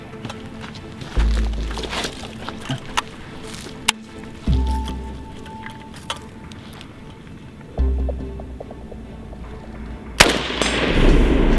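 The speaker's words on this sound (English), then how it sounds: "let's see if we can manage to score some hits" An RAS47 rifle in worn, damaged condition fires single shots at a target 100 yards away, each sharp report spaced by a few seconds of quieter outdoor background.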